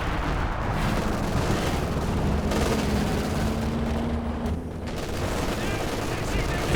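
Jagdtiger tank in a Company of Heroes 2 four-versus-four battle firing amid a dense wall of gunfire and explosions, with a low engine drone running under the constant rumbling barrage.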